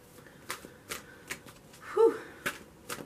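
A deck of cards is shuffled in repeated quick riffles and bursts, about eight short crisp rustles spaced evenly, close and fairly quiet.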